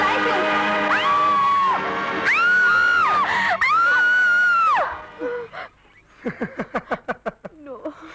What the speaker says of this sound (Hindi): तुम इतनी जोर से चिल्लाए